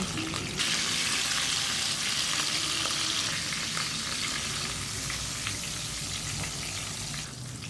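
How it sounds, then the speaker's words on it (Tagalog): Pork meat browning in a pot gives a loud, steady sizzle and crackle that holds evenly, close up, and fades slightly toward the end. "binabrown natin yung karne muna"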